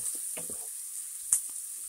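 Onions and garlic sweating over lowered heat in a pan, a soft, faint, close sizzle with a high hiss and a few brief ticks and pops, heard alone.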